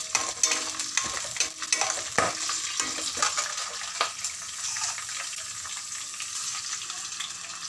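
Thoothuvalai leaves frying in a pan with garlic hiss and crackle close up, broken by frequent sharp scrapes and clacks of a spoon stirring them.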